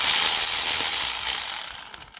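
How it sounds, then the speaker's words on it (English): A socket wrench loosening a 14mm motor mount nut on a 2006 Nissan Maxima: a steady, close, bright ratcheting clicks that slows into a few separate clicks at the end, with no talk. "we'll loosen this other nut right there"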